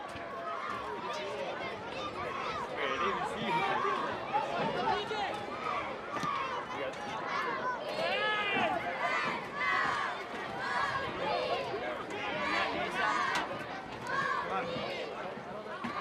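Lively crowd noise from a college men's soccer match at Thompson Field, a steady, dense wash of many voices cheering and chattering throughout, with scattered shouts rising above the roar.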